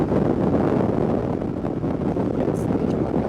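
Wind noise rushing past a rider on a Vespa GTS 300 scooter wearing an open-face jet helmet, a loud, continuous low buffeting roar that holds steady throughout.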